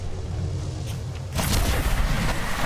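Enemy gunfire in a shooter video game: dense, rumbling bursts of shots and booms that grow louder and busier halfway through, with no voices.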